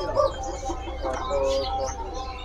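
A cak kerinci bird at a bird seller's stall gives short whistled calls and chirps amid background noise, with faint voices nearby.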